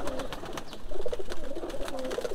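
Pigeons on a rooftop coo in soft, repeated rolling phrases close by, several birds overlapping over a low background murmur with no clear speech.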